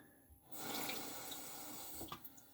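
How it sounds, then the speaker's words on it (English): Water runs steadily from a tap over a sharpening stone, a continuous hissing splash that starts abruptly after a brief quiet moment and continues close and even, with a few small splashy bumps near the end. "the real test for me is going to be running water"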